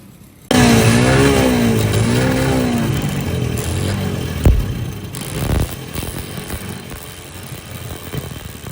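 A farm engine in a Pakistani village cuts in abruptly and runs loud and steady, its pitch rising and falling as it is revved, with a couple of louder knocks partway through.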